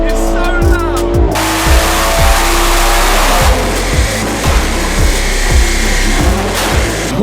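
A tuned stage 3 BMW M140i with modified exhaust valves roars loud and close, a heavy droning exhaust note punctuated by a steady series of sharp rhythmic thumps throughout.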